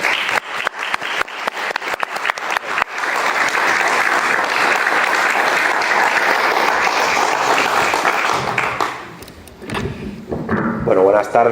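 Audience applause at a book presentation in A Coruña starts as scattered, sharp claps that swell into a dense, sustained ovation, then fades out as a voice begins speaking near the end.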